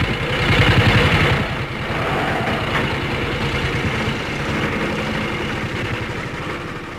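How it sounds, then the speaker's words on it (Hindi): A motorcycle engine putters at close range with a rapid, steady low thumping that revs slightly at first, then settles into an even idle. "तुम मेरी मोटरसाइकिल के पीछे बैठो।"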